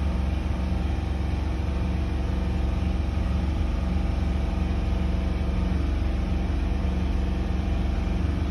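A 2008 Ford 5.4 3V engine with an ignition misfire runs steadily, giving a continuous low rumbling drone with a slightly uneven pulse, close and loud, with no talk.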